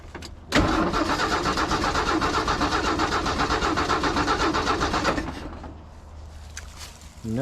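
A 1967 Ford F250 crew cab engine cranks steadily for about five seconds with a rhythmic chugging starter sound, then stops without catching into a run, leaving quieter background noise.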